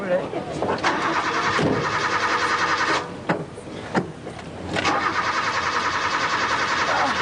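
A car engine being cranked with too much choke, repeated churning starter bursts that catch and sputter, stall briefly and then rumble back into a rough running idle, with people talking over it.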